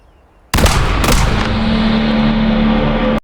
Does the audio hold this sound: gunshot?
yes